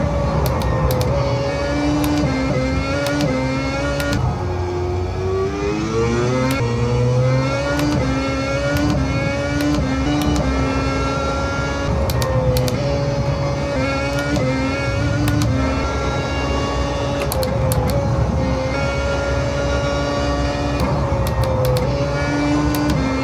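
A car engine in a rally sim video game revs continuously, rising and falling in pitch through gear changes with faint clicks and knocks, loud and steady throughout with no speech.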